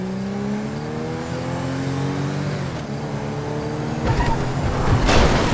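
A car in the video game GTA V is driven recklessly, its engine droning and shifting pitch as it revs and accelerates, growing louder and rougher toward the end with possible tire noise.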